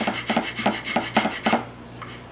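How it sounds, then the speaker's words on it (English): Hand rasp filing the wooden stock of a Winchester 1895 Russian musket under restoration, a close, steady run of rough scraping strokes in even rhythm, about eight passes before a brief pause. "I'm just going to use my rasp"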